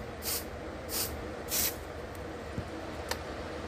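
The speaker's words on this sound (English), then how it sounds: "now we're going to spray some smoke at these detectors" Three short hissing bursts of canned test smoke sprayed at smoke detectors, evenly spaced about a second apart, followed by a couple of faint clicks in a quiet room.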